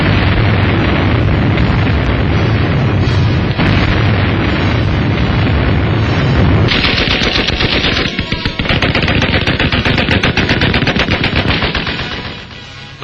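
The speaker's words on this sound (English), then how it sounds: "Shanghai falls in desolation after weeks of bombardment." Wartime bombardment of Shanghai in China, archival film: loud, continuous machine-gun fire mixed with heavy explosions and booming blasts, dense and unbroken throughout before easing slightly at the very end.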